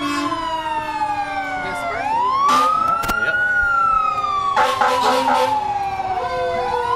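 A fire engine siren wails during an autumn parade, rising and falling close by with loud horn blasts cutting in, amid outdoor crowd noise.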